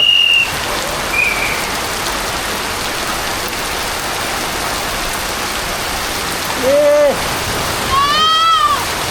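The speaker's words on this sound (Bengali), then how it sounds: "অনেকদিন পরে এত বৃষ্টি," Heavy village rain keeps up a loud, steady rush of drops and splashes, while short voice-like calls and whistling tones rise briefly over the downpour near the end.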